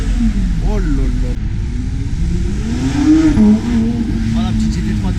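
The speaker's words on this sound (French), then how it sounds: "Oh la petite GT3 Touring là." A Porsche GT3 Touring supercar passes at a supercar meet, its engine rising and falling in pitch as it goes by, with people talking excitedly over it.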